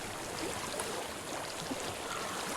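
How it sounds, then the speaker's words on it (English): Flowing water in Hellblade: Senua's Sacrifice, a steady broadband rushing like a stream, continuous and moderately quiet with no voices. "I hear water."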